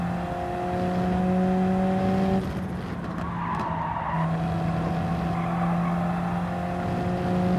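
Race car engine in a racing video game holding steady tones, with a brief tire-skid break midway before the engine note resumes, loud and continuous.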